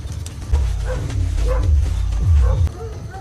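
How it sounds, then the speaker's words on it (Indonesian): A dog barks in a film scene as soldiers' village is being infiltrated: several loud, close barks and yips in an uneven series over a low rumbling background. "mereka mendengar suara gonggongan anjing"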